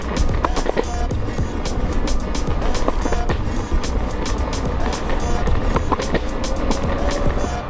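A Nuff electric skateboard rolls steadily over pavement, its wheels giving a continuous near rumble and grit broken by small clacks and bumps, with no talking.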